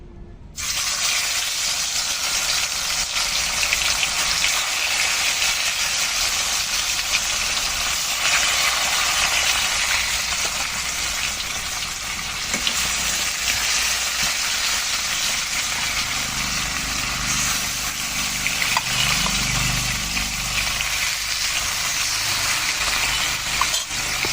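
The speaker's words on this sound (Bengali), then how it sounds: "তেলটা সুন্দর গরম হয়ে গেছে। আমি এখন মাছগুলো ভেজে নেব। দিয়ে দিচ্ছি একে একে মাছগুলো।" Pieces of fish frying in hot oil in a home kitchen for a thin Bengali fish curry, a loud, steady hiss and sizzle running continuously without pause.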